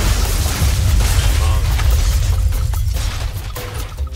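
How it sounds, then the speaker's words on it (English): Explosion in the Goat Simulator video game, a loud booming blast with rumbling low end that rolls on and slowly fades over a few seconds. "how many explosions came up in space"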